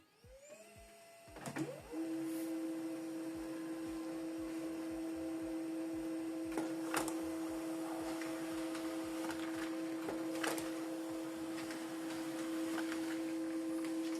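An HP LaserJet M107W laser printer runs a print job, giving a steady mechanical hum with a sharp startup and a few clicks and feed noises along the way, close and continuous with no talking.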